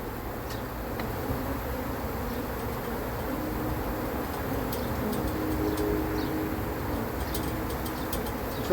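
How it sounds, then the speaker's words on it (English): A swarm of honey bees buzzes around a hive box outdoors, a dense, continuous hum that holds steady for the whole stretch, with a few faint ticks and bird chirps scattered above it. "Try to let those bees reorient down here onto the box."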